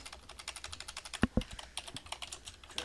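Values keyed into an Excel spreadsheet on a computer keyboard, a quick close run of light clicking keystrokes with a couple of heavier taps midway, no talking.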